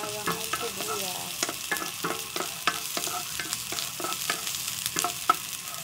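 Garlic and onion sautéing in a pan for a mussel dish, a steady close sizzle broken by repeated scraping stirs of a utensil against the pan.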